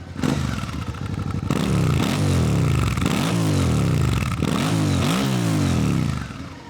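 A warmed-up motorcycle's exhaust revs repeatedly up close, loud, rising blips of the throttle falling back between each pull, with a raw, mechanical clatter underneath.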